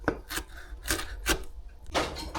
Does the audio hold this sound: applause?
no